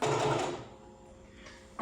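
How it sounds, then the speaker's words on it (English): A sewing machine runs briefly while stitching down the seam of a patchwork Christmas shirt sleeve, a loud steady mechanical whir that eases off and then picks up again at the end. "take it to the sewing machine."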